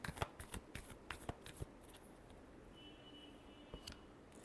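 Tarot cards are riffled and shuffled in quick bursts of crisp flutters and taps, close and fairly quiet, with a few seconds of softer handling between.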